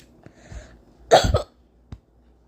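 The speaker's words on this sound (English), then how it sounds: "I did a cough and a hiccup." A single sharp cough and a small hiccup come from a person indoors, with a faint click or hiccup afterward and near-silence around them.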